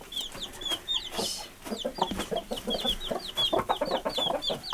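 Young Lavender Orpington and black Australorp chickens on a homestead cluck steadily and close by, with high chirps scattered through the soft, busy flock chatter.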